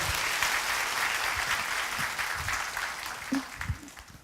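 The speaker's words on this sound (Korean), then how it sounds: "다시 한번 여러분 뜨거운 박수 맞아주시기 바랍니다" Steady applause from a church congregation during a Sunday service, sustained clapping throughout with a few louder individual claps near the end.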